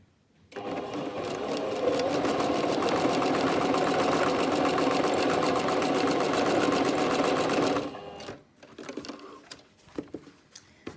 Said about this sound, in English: Now I'm just going to stitch it on the top.